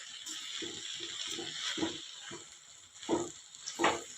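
Drumstick (moringa) leaves and soaked moong dal are sautéed and stirred in a pan, giving a soft background sizzle with a rhythmic run of scraping stirs that grow louder toward the end.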